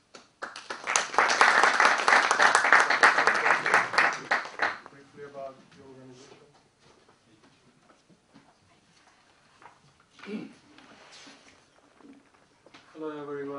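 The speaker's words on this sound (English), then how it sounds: "I'd like to thank, welcome Dr. President Byung-gi Kim with a round of applause." An audience at a conference opening applauds to welcome a speaker. The crowd clapping is fairly loud for about four seconds, then fades into quiet room sounds with scattered speech and small noises.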